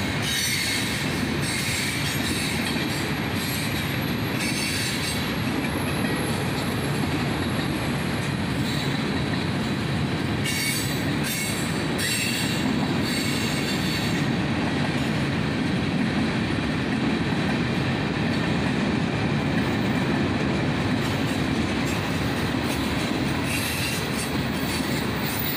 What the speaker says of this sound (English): And a big cut of tanker cars bring up the rear.